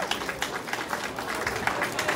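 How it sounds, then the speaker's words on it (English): Mixed applause and crowd murmur at an outdoor National Night Out event held by the NYPD 109th Precinct in Flushing, with steady clapping from a gathered audience and a few louder claps standing out. "A round of applause, please."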